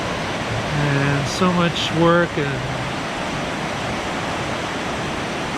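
A river rushing beneath an abandoned rail trestle in New Jersey, a broad steady roar of flowing water throughout, with someone talking briefly over it near the start.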